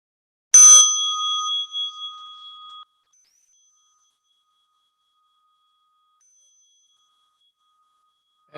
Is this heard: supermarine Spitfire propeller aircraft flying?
no